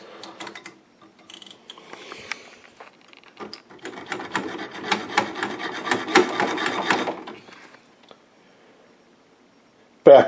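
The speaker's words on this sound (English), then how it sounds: "I did end up using a mini hacksaw. It's not that hard to do. It's very soft aluminum." Rough, rapid rasping strokes from a mini hacksaw cutting through a soft aluminum capacitor can on a Meck XB-702 restoration, close and uneven over several seconds, then quiet with a sharp clunk at the end.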